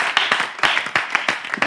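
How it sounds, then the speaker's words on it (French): Quick, close hand claps from a small audience on a French television set, crisp and uneven, bursting in a lively patter for under two seconds. "On applaudit."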